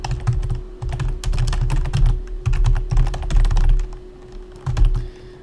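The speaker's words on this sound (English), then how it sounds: "we're going to type in something" Steady keyboard typing on a computer keyboard while entering code for a Game Maker 3D tutorial, clicking in dense bursts with brief pauses over a low constant hum, close and fairly loud.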